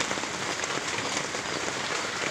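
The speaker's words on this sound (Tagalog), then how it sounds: "sobrang lakas ng ulan" Heavy rain pours down in a dense, steady hiss, drumming on surfaces close by without a break and with no voices.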